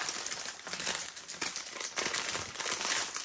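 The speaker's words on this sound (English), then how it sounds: "excuse my crinkling" Plastic packaging crinkles and rustles in quick irregular bursts, close and fairly loud, with no talking over it.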